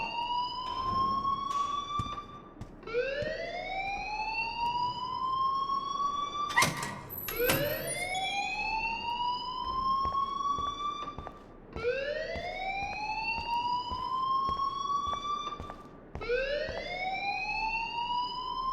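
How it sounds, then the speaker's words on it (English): A school alarm from the video game Life Is Strange wails loudly in repeated rising sweeps, about five cycles with short gaps between them, close and continuous with no talk. "please turn off that alarm since that's your job"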